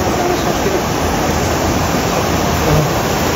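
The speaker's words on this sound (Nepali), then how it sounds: "अनि बाँकी रहेको पानीलाई चाहिँ यसरी यहाँबाट चाहिँ खोलेर फाल्ने काम।" Surplus water released from a drinking water project outlet pours out as a loud, steady roaring rush with no breaks, close by.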